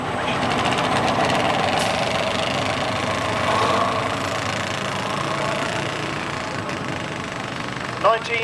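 A 1954 Foden haulage tractor at a parade in Bloxham rumbles steadily at close range with a continuous mid-pitched engine drone and a knocking vibration, holding a level volume throughout.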